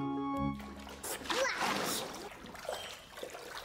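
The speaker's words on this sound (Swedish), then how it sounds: "Det är roligt att plaska med vattnet" Children splash and slosh water at outdoor play with buckets and a water wheelbarrow. Brief splattering bursts come close by over a few seconds.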